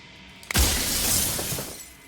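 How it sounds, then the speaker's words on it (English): A loud glass crash in the video game Slay the Princess: a sharp shattering impact followed by a long tinkling, ringing tail of breaking shards, alone and close. "those crashing glass noises are definitely not mixed with the rest of the sound"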